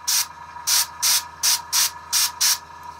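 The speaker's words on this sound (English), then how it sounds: "And I'm going to spray a little bit on the bottom." Short bursts of an airbrush spraying Payne's Gray paint onto the armor of a miniature turtle figure, seven even hissing puffs in a steady rhythm, close and clear with no talking.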